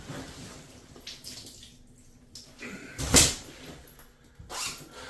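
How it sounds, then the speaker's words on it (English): A pool of water dumped out of the bottom of a Carhartt Heavy Haul 55L duffel bag, giving one short loud splash among quieter rustling and drips. "So, pool of water in the bottom. So we're going to dump that out real quick."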